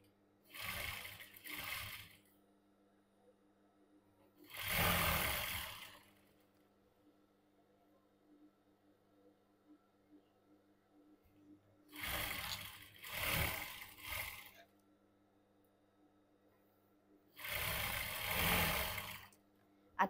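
Domestic sewing machine stitching the seam of a cigarette pant, running in four separate bursts of rapid mechanical whirring, each a second or two long, with quiet pauses between them and a faint steady hum underneath.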